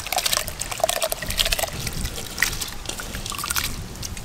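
Soaked, washed basmati rice tipped into a pot of water for mutton biryani, giving a steady close pour and trickle with splashy bursts throughout.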